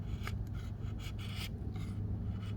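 An Ontario RAT 7 knife carves fine shavings from wood, a close rasping scrape repeated in several short strokes with brief pauses between them, moderately loud and with no voices.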